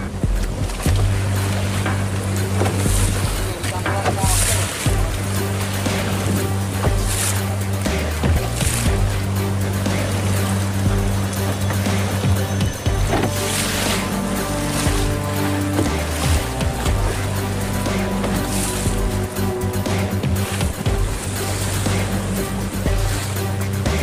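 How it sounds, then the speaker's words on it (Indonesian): High sea waves rolling in at Ngluwen beach in Gunungkidul, heard from a boat with its motor droning steadily, waves washing and crashing repeatedly, no talk. "Itu gelombang tinggi-tinggi banget,"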